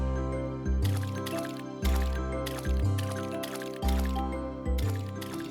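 Crops being watered in a farming roguelike video game: short splashing, dripping pours repeat roughly every second over steady tonal background music, each burst clear and close.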